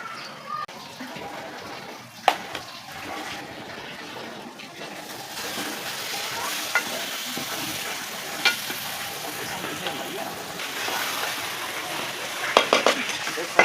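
Green chillies and tomatoes frying with salt, red chilli and turmeric: a continuous crackling sizzle with occasional utensil clinks and scrapes, brighter bursts of spatter toward the end, and a voice faintly in the background.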